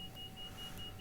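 A Bell 407 helicopter cockpit in Microsoft Flight Simulator 2020 sounds a repeating electronic beep, evenly spaced tones over a low engine rumble.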